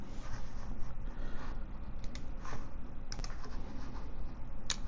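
Typing a command on a computer keyboard while working in Rhino 3D design software: soft, continuous key clicks with a few sharper taps, close and fairly quiet over a low background hum, no talking.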